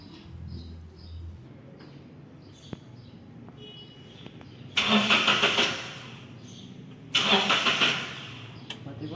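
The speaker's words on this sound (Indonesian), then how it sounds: "Silakan dicoba di starter, hidup enggak?" A Daihatsu Ayla's starter cranks twice in two loud bursts of whirring, each lasting about a second and a half, while the car fails to fire. A quieter background hum runs between the attempts.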